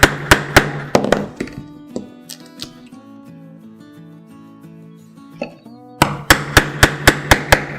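Sharp, loud hammer strikes drive a Craftool leathercraft punch tool, a rapid burst of blows at the start and another steady run of about seven evenly spaced hits at the end, with a quieter ringing, tonal stretch between.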